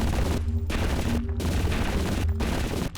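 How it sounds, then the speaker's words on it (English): A machine gun fires continuously in the retro-style shooter Zortch, a loud, dense roar of rapid shots broken by a few short gaps. "almost out of ammo with the machine gun"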